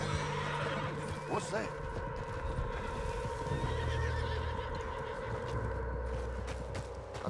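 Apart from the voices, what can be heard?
horse neighing in a video game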